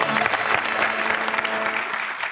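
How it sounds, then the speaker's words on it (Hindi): Studio audience applause on a Pakistani TV talk show, a dense, steady burst of clapping from a crowd that fills the whole moment at close range. "मैं चाहूंगा कि मैं और आप इनके साथ मिलके तालियां बजाएं"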